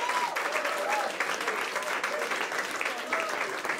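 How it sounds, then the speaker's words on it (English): An audience at a stand-up comedy show claps steadily, a dense, continuous patter of many hands filling the room, with faint voices mixed in beneath the applause. "I love that you're clapping"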